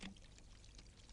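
Drink glugging from a bottle into a glass and foaming up, a short close splashy pour that settles into a steady fizzing hiss.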